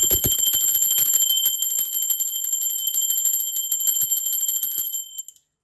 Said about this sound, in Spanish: La campana es una energía de frecuencia muy alta